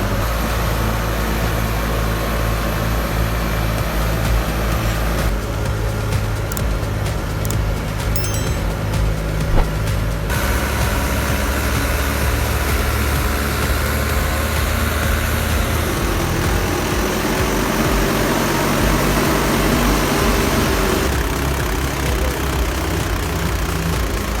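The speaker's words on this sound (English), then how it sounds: "The engine roars, 650 horsepower is transmitted to the ground. The wheels spin and spray white mud." A 650-horsepower tractor stuck in white mud roars steadily and heavily as its wheels spin, producing a loud, continuous low engine drone with grinding mechanical texture throughout and no voices.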